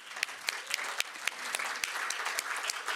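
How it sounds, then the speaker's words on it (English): A crowd at a lobbying preparation gathering gives a round of applause, sustained dense clapping with distinct louder claps from people close by punctuating the steady roar. "Let's give them another round of applause."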